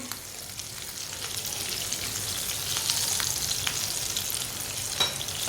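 Shami kababs fry in oil in a pan, giving a steady, moderately loud sizzle with crackling pops and occasional scraping.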